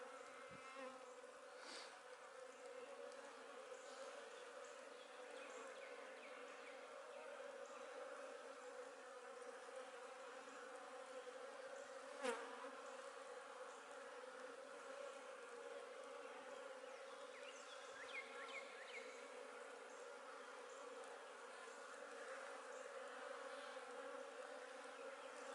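Russian honeybees hum in a dense, continuous swarm drone, faint and steady throughout with no voices.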